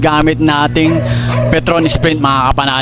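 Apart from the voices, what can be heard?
dog barking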